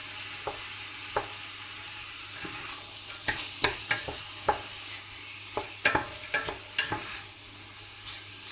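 Vegetables for Moroccan couscous being stirred and sautéed in a pot, a steady sizzle broken by irregular spoon knocks and scrapes, close and moderate in volume.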